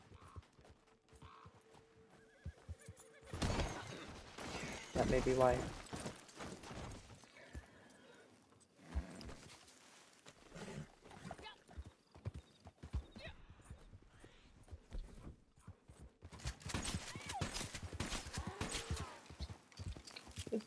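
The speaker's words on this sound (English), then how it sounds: "This horse is so squirrely." A skittish horse in a video game clip-clops across ground and whinnies, hoofbeats coming in bursts with a sharp neigh midway, while a player talks briefly over the game sounds.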